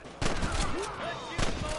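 Gunfire from the 2010 western game Red Dead Redemption: two loud, close bursts of shots about a second apart, each one sharp and crackling, with faint voice traces in the gap between them.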